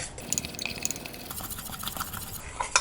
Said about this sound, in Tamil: இதை நல்லா பீட் பண்ணிக்கலாம்.